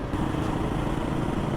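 A motorcycle fitted with a loud aftermarket exhaust, heard on a weekend road ride as a brief, steady, rough engine drone with no talking.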